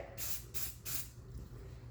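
Three short bursts of hissing spray from an aerosol can onto a woodworking piece finished with CA glue, close and fairly loud, with a low steady hum underneath.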